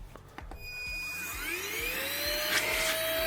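A Craig & Russell budget handheld vacuum cleaner switches on after a couple of clicks, its motor whine climbing in pitch as it spins up into a loud, steady high-pitched drone.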